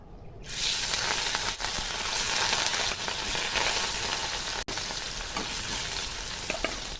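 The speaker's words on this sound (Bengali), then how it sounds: "এখন এই তেলেই মাছগুলো ভেজে নেব।" Rohu fish pieces fry in hot oil in a pan for a rui macher jhol, a loud, steady sizzle that holds throughout with small crackles and one brief dip, no talking.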